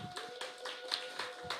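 Small group of people in a church youth service clapping for three new members, a short, fairly quiet burst of scattered claps with a steady faint tone in the background.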